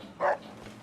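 A single short electronic-tinged bark from Rex, the robot dog in Fallout: New Vegas, sounding once near the start and moderately close, followed by quiet game ambience.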